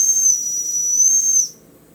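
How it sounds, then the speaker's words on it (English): A 1940 Jensen No. 25 toy steam engine sounds its whistle, a shrill, steady high-pitched tone with breathy steam hiss that holds for about a second and a half and then cuts off, leaving faint background noise. "did get the whistle whistling"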